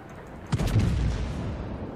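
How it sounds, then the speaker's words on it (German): Warship guns in World of Warships fire a single heavy boom midway, then a deep rumbling echo trails off over low background noise. "Die bleiben da einfach nur stehen und schießen uns kaputt."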